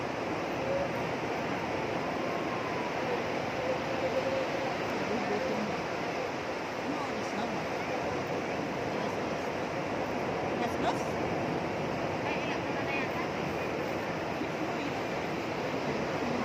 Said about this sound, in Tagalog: Malakas na kasi ang alon eh.